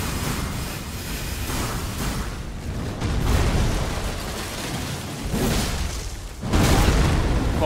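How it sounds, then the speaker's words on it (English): An Elden Ring boss fires lasers in deep, rumbling blasts that swell in several heavy bursts, with the loudest surge at the end and no talking. "Now he's shooting lasers."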